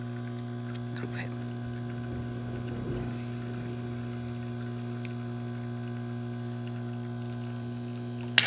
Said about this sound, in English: Nice steady stream coming out the portafilter